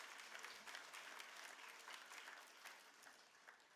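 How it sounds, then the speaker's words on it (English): An audience claps in steady, dense applause at an Australia Day citizenship ceremony in Australia, a moderately distant round of many hands without voices, fading slightly at the end. "I think you deserve a round of applause"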